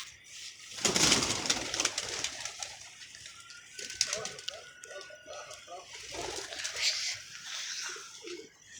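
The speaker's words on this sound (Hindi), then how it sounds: "लो जी दोस्तों, ये कबूतर सरगोदे वाला है।" Soft coos from a Sargodha pigeon repeat in a throaty rhythm nearby, alongside a burst of fluttering and some background voices.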